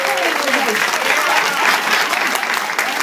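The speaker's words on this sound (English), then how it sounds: "Let's give another hand clap for Mekel Henderson." Workshop audience applauding steadily and loudly for the full stretch, dense clapping from a crowd with a faint voice or two underneath.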